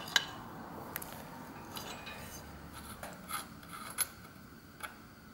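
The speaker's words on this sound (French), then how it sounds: "on va prendre la petite clé de 32 et on va venir déjà desserrer cet écrou là" Metal wrench loosening the headset lock nut on a Peugeot bicycle being restored, heard as a few sharp metallic clicks and ratcheting ticks spaced out over low background hiss, close and fairly quiet, with no talking.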